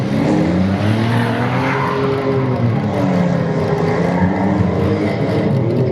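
Modified race cars roar around a muddy dirt track at a demolition derby, a loud continuous blend of engines with rising and falling revs as several cars accelerate through the turns.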